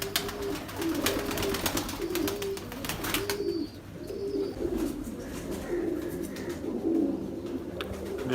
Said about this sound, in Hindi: जी ये दूसरा कबूतर